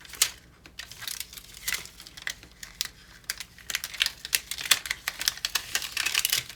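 Glitter Cricut vinyl being weeded from its backing, giving close, faint crinkly peeling and small tearing crackles in irregular bursts that grow busier toward the end, with no voices.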